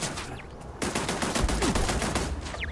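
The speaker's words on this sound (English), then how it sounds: "Oh, it's a turret that's shooting me now." Automatic turret fire in the video game Starfield, a quiet opening, then a loud rapid burst of repeated shots with sharp regular cracks lasting about two seconds.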